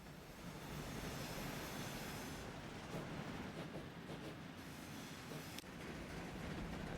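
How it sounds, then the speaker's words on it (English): Trains run across a busy rail network in Transport Fever 2, producing a continuous rumbling rail drone with shifting passes and a brief clank partway through, no talk. "There's so many trains using this network now."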